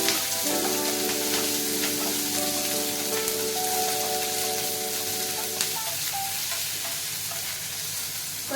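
Onions frying in a pan with salt, a continuous close sizzle and crackle, with a sustained musical tone underneath for most of the time.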